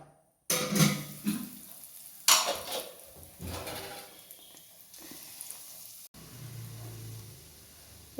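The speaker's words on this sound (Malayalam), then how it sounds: "എണ്ണ ചൂടായതുകൊണ്ട് നമുക്ക് ഓരോന്നായിട്ട് പൊരിച്ചെടുക്കാം" Coated egg snacks fry in hot oil, crackling and sizzling in bursts as pieces go into the pan one at a time, with occasional clinks of a utensil against the pan.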